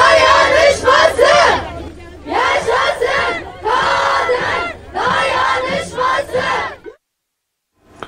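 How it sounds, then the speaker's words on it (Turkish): Women at a rally ululate in a loud, trilling group cry, rising in four strong bursts over about seven seconds before breaking off into silence. "Açıklama kadınların alkış ve zılgıtlarıyla son buldu"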